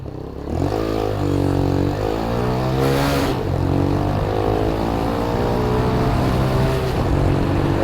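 Kymco K-pipe 125 cc motorcycle riding along, its small engine droning steadily with shifting harmonic pitch as it speeds up and eases off, close and loud throughout with wind rush.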